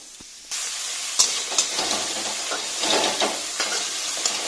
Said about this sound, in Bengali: এটা হালকা করে ভেজে নেবো